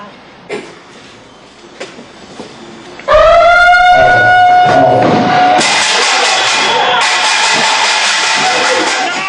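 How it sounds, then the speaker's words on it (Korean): At a Korean Marine Corps reconnaissance training unit at midnight, a loud rising siren wail suddenly cuts in, soon joined by a harsh, clanging metallic din of beaten kkwaenggwari gongs that keeps going steadily. "갑작스런 사이렌과 꽹과리 소리"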